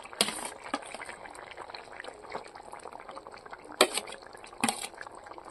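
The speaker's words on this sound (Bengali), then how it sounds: "আর কিছুক্ষণ ফুটিয়ে নেব।" Dried cabbage curry with cumin paste boils in an uncovered pot, a steady close bubbling and popping with a few louder bursts and clinks rising above it.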